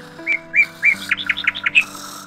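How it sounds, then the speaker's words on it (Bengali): Morning birdsong: a small bird gives a few spaced chirps, then a quick run of bright tweets, close and clear over a quiet background. "আরে পাখি ডাকছে, মনে হচ্ছে সকাল হয়ে গেছে।"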